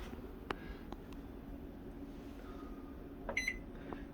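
A few short electronic beeps from a GE JVM3160 microwave oven, one clearer multi-tone beep near the end, over a steady low hum and faint clicks.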